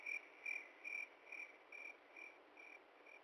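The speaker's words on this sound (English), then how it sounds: "we got rid of the crickets" Crickets chirp outdoors on an evening, a steady run of evenly spaced chirps that starts fairly clear and fades a little with each pulse, with nothing else heard.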